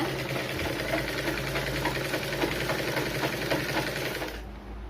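A sewing machine stitches a blouse back with its lining pinned in place, sewing a quarter-inch seam in one steady, close, continuous whir that stops abruptly near the end.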